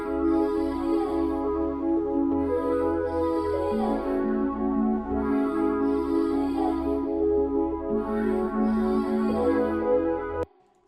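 An FL Studio hip-hop beat plays steadily with an arpeggiated Avatar Bell counter melody riding over bass and drums, loud and continuous for about ten seconds before cutting off abruptly.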